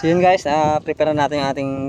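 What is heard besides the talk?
No everyday noises stand out.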